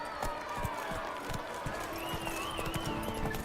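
Geralt's horse Roach gallops in The Witcher 3, with quick, steady hoofbeats drumming close by under game music and a voice.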